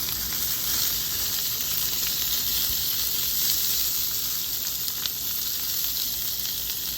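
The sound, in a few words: red drum fish fillets sizzling on a Blackstone griddle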